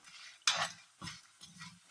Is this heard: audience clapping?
no